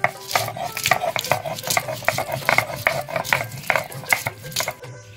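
Green chillies being ground on a grinding stone, giving rapid, rhythmic scraping and knocking strokes of stone on stone, close and moderately loud, with no talking.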